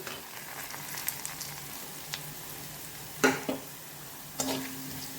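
Drumstick masala with pepper, turmeric and masala powder being stirred in a pan, a faint low sizzle with a few sharper scrapes and clinks near the middle and end, close but quiet, with no voices.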